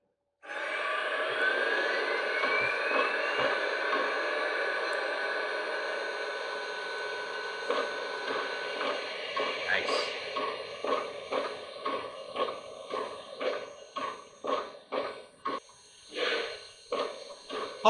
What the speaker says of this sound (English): this engine makes a lot of just steam engine noises in the background, even when it's not moving